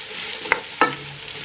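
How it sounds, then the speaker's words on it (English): Two quick stirring scrapes of a spoon through softened onions and carrots in a pot, close and distinct against a low steady background hiss. "let's mix my onions and my carrots."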